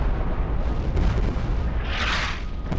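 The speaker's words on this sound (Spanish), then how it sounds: "El proyectil atraviesa la cubierta y explota contra la torre" An artillery shell bursts against the armored turret of the battleship Bismarck after piercing the deck, a deep rumbling boom followed by a rushing, hissing roar of blast and debris.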